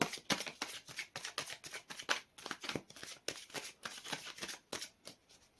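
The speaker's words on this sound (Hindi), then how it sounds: "कार्ड शफल अच्छे से हो जाए तो" Tarot cards being shuffled by hand in a quick series of crisp riffles and soft slaps, close and clear, with short pauses between bursts.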